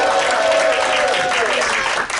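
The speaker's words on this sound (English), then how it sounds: "everybody cheer for them anyway" Workshop audience clapping and cheering together, a steady dense burst of applause filling the room for about two seconds, with voices mixed in and a brief dip near the end.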